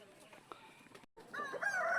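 Hens cluck and call softly in a coop at feeding time, a few short clucks followed by a louder run of rising squawks close by.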